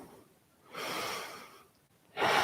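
Deep, slow breaths in a yoga pose, heard close and alone as two long airy exhalations with a quiet pause between them.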